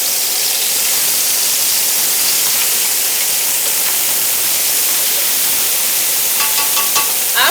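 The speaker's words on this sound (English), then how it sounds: "Now you fry it." Chopped green onion sizzles in a hot stir-fry pan with a steady, dense hiss that runs unbroken throughout, with a few faint clicks near the end and no talking.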